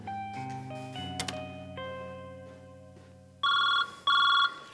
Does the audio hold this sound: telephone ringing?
yes